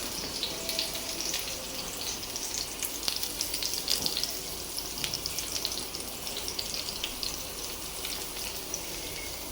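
Slices of sweet pumpkin fry in a pan, a close, continuous sizzle and crackle with occasional sharper pops and faint scraping, no voices.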